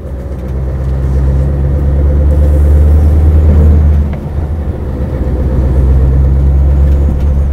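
Loud, deep engine rumble of a Scania S580 truck heard from inside the cab as it pulls off a roundabout, steady drone that dips briefly around a gear change then builds again.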